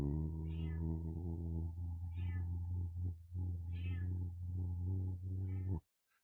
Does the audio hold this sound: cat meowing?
yes